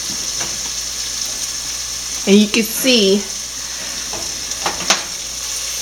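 Onions and bell peppers frying with a steady sizzle and constant hiss, with someone talking briefly over it partway through.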